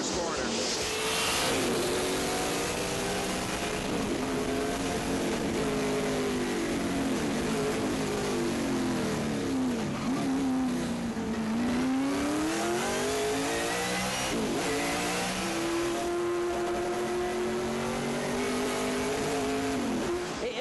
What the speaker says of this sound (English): Cars making their way out of corner 11 down this front straightaway.